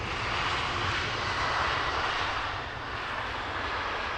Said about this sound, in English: Heavies dropping into the northern runway.